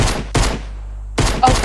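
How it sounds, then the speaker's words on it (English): Bursts of automatic gunfire in the Fortnite battle royale game, two loud volleys of rapid shots separated by a short pause, close and with no talk. "Can anybody hear the gunshot?"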